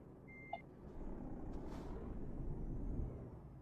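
Truck backing up to attach a trailer in Euro Truck Simulator 2, a short reversing beep, then a low diesel engine rumble and a brief hiss of air, fairly quiet overall.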